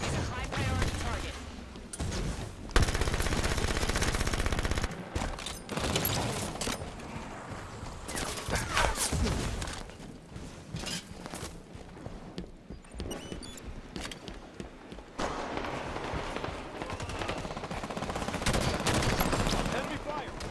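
Enemy gunfire in the shooter game Halo 5 during a Warzone match, with dense automatic bursts and loud shots running for the whole stretch, dipping briefly midway, over a busy game mix.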